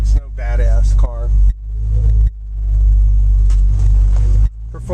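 A 1965 Ford Mustang Fastback engine rumbles loud and close, its low drone briefly dipping between steady running stretches, with no talk over it.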